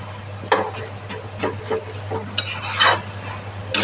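Garam masala being stirred into a vegetable dish in a pan, with a Bengali-style banana flower ghonto in the kitchen: several scraping spoon strokes against the pan over a steady low hum, ending in a brighter clattering scrape.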